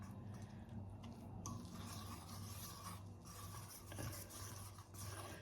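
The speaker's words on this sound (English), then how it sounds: "So I'm now going to whisk the eggs." Eggs being whisked in a bowl, a quiet steady run of rapid ticking and scraping strokes that keep going without a break, close by with no voices.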